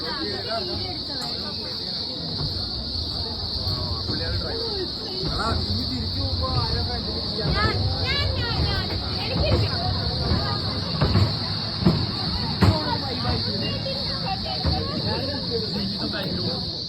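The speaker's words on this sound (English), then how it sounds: "the chirping between the trees is insane" Insects chirp loudly and constantly in the rainforest trees of Blue Mountains National Park, a high, steady drone with rail noise and someone talking underneath.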